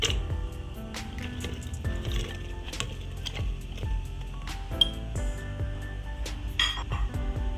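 Chopped bottle gourd pieces dropping into a pressure cooker, with scattered clinks and soft thuds of vegetable against metal over a steady low background hum.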